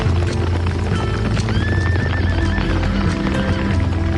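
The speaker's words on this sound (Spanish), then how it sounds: "Hoy en día seguimos llamando a estos caballos árabes." Arabian horses gallop with steady, dense hoofbeats close by while a horse neighs with a rising, drawn-out whinny partway through; no voices.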